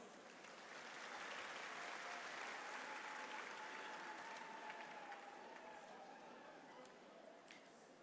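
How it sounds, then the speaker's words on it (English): Sustained crowd applause welcoming an academic procession at a university graduation ceremony, a steady dense wash of clapping from a large audience that swells early and holds throughout. "Let us welcome them with a round of applause"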